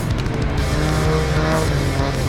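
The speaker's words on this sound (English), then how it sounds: "Car 111, driven by Anton Ratz and Louis Mange in their VW Golf 1, still coming through nice and strong" A VW Golf 1 rally car runs hard through a rally stage, its engine a loud, steady, strained drone with a gravelly edge throughout.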